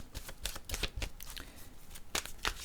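Oracle cards being shuffled by hand, a quick series of close papery riffles and slaps in an irregular rhythm.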